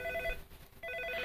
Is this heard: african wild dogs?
no